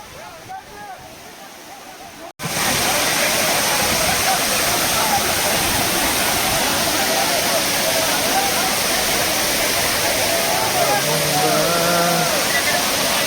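Amboli waterfall roars as a loud, dense, continuous rush of falling water that swells in after a brief quieter start, with faint voices beneath it.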